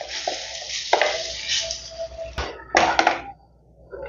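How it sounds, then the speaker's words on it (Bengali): Chickpea lentil paste sizzles in hot mustard oil in a wok, with bursts of louder frying as it is stirred and pushed around the pan, close by and with no talk. "তেলটা গরম হয়ে গেছে, দিয়ে দিয়েছি ছোলার ডালের পেস্টটা কড়াইতে।"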